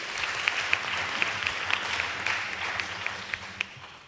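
Audience applause for a panel speaker at the close of a conference session, a steady dense clapping with a few sharper individual claps standing out, sustained evenly at moderate level with no talk over it.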